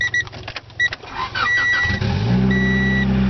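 A 1992 Honda Accord's engine makes a cold start in a junkyard: a couple of faint clicks and chimes, a brief crank, then the motor catches and settles into a steady close idle.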